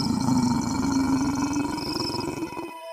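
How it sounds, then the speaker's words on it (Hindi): A witch in a Hindi cartoon growls, a loud, sustained, roaring snarl with a rough, tonal edge that holds for nearly three seconds before cutting off abruptly. "चुड़ैल गुर्राने लगती है।"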